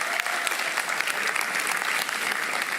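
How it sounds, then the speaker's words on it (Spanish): A church congregation breaks into dense, even applause, a continuous roar of many hands clapping with no pauses. "Denle un fuerte aplauso a los que trajeron la Biblia."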